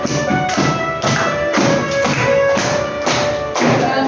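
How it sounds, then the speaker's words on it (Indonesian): A class of schoolchildren claps hands together in a steady rhythm, roughly two claps per second, loud and close, with music or singing underneath. "Sambil tepuk tangan."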